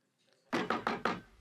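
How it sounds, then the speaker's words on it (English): Knuckles rapping on a table during a card game in a TV drama: four quick, firm knocks in an even rhythm, close and clear, with no voices over them. "you knock your way, Groucho, I'll knock mine"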